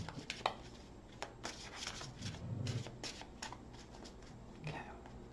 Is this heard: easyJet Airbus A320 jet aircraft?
no